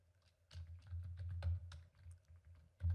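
A computer keyboard is typed on in uneven bursts of quick clicking keystrokes, close and fairly quiet, with a heavier key press at the end.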